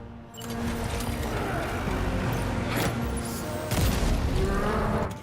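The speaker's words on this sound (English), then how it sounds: "What about Troy throwing a grenade at him?" Grenade blast in the Death Stranding 2 video game, a dense, loud burst of rumbling explosive noise that sustains across the clip and swells again near the end, with no talk over it.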